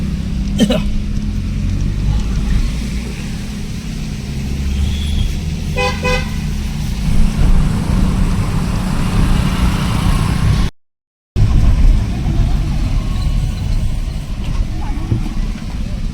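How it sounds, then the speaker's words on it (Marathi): Heavy road traffic during the Lalbaugcha Raja festival crowd in Mumbai gives a constant low engine rumble, with a short car horn toot partway through; a brief dropout interrupts it. "फुल ट्रॅफिक"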